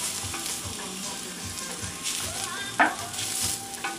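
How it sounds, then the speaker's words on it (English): Onions sauté in oil with a steady, crackling sizzle close by, while soft rhythmic stirring scrapes repeat beneath it and one sharper clink stands out near the end. "the first thing I'm going to do is I want to saute these onions here"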